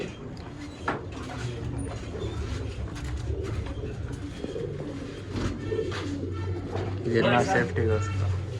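Pigeons coo repeatedly inside a pigeon loft, soft throaty calls rising and falling over a murmur of background noise while someone talks throughout.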